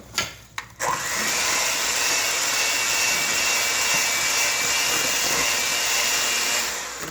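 Milk is mixed into homemade banana bread batter. A couple of short knocks lead into a loud, continuous motor-like whir that holds steady to the end, with nobody speaking.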